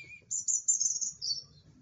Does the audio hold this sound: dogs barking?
no